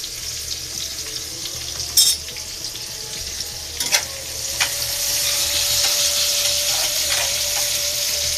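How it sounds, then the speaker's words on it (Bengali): Onions frying for a tilapia bhuna crackle in a continuous close sizzle, with a few sharp utensil knocks against the pan and no voices. "পেঁয়াজগুলো আমার লাল লাল হয়ে ভেজে এসেছে।"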